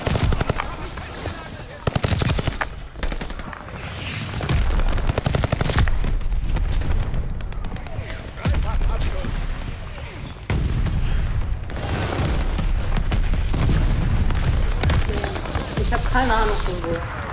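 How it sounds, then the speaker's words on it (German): Rapid gunfire and repeated explosions from the shooter game Call of Duty: Vanguard, loud and near, in dense continuous bursts with heavy low booms, while players talk over the chaos. "Es explodiert alles"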